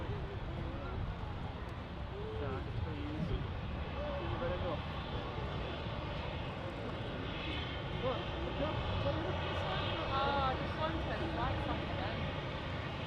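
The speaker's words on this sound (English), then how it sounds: "Ryanair 73 just arriving." A Ryanair airliner arrives at Manchester Airport as a steady engine roar in the background, with people talking over it for much of the time.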